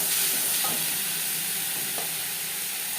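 Grated coconut with ginger and green chilli paste sizzles in a pan for vegetarian moong dal, while a spoon scrapes and stirs it in a few distinct strokes over the steady frying hiss.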